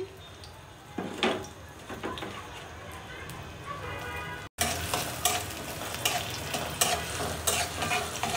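Chopped garlic and onion frying for a beef curry, a steady close sizzle with scraping stir strokes that jumps louder after a brief cut midway.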